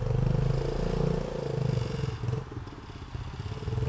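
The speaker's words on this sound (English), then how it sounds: "That dirt bike's loud." A loud dirt bike engine drones steadily from nearby, with a rough low rumble that dips briefly and then resumes.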